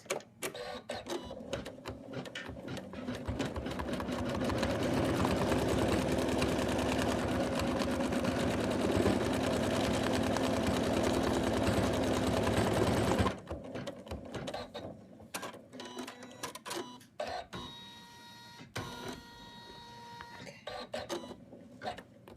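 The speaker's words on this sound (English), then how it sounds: "Now we're going to do the placement line for the mustache and his eyebrows." Embroidery machine stitching the placement line for Santa's mustache and eyebrows, a dense whirring, clicking run of needle strokes for about thirteen seconds, then sparser ratcheting clicks and pauses as it stops and shifts.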